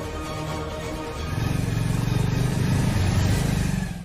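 A car engine runs close by and builds from a steady idle into a louder, rising drone as the vehicle pulls away, with no voices over it.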